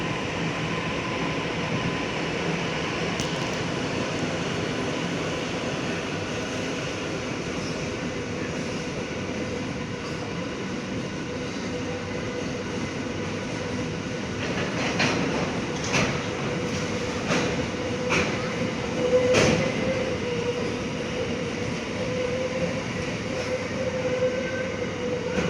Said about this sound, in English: Leading loco CF 4408. Middle loco CF 4410. And trailing loco VL